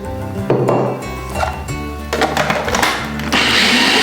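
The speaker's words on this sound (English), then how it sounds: "it needs to be blended up enough so that it's going to bind together" A kitchen blender whirs loudly up close while blending drained chickpeas and sweet corn into a thick mix for vegan veggie burgers, the motor pitch shifting and straining as the mixture thickens.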